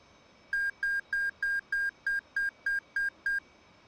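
Ten identical electronic cockpit beeps from an F-18 in the DCS flight simulator, evenly spaced in a steady rhythm, clean and clear over a faint hum, no voices.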